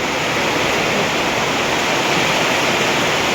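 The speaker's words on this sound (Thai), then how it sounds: "น้ำมันระบายลงกันท่อบ่ทัน" Floodwater rushes steadily across a flooded road and pours into overwhelmed drains during ongoing heavy rain, a dense, continuous roar of flowing water with no pauses.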